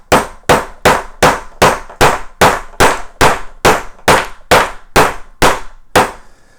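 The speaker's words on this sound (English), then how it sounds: "So when I hammer this down" A hammer drives an M6 T-nut into a counterbored hole in wood with about thirteen sharp, evenly spaced metallic strikes, close and loud, each ringing briefly before the next, with no talking.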